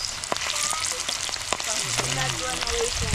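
Oil crackles and sizzles steadily as chicken skin fries in a pan at a campsite, with occasional pops and faint background chatter.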